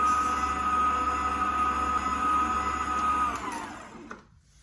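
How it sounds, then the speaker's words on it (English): A Hauswirt HM740 stand mixer whisks banana bread batter on speed 3 with a loud, steady motor whine and mechanical hum, then winds down and stops near the end, leaving a small clunk. "I'm putting it on number 3 to whisk, to mix."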